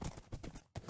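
Minecraft horse hooves clip-clop in a steady rhythm of close, fairly quiet hoofbeats with one brief pause near the end.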